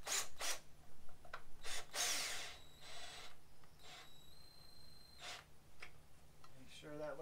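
A power drill drives a bolt into a brick post while fitting a flag pole holder, in several loud close bursts of whirring with pauses between, and a voice talks briefly.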